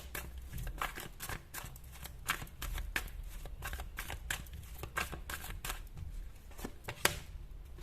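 Tarot cards pulled from a deck and handled, a quick run of crisp papery riffles and snaps, close and clear, with a slightly sharper flick near the end.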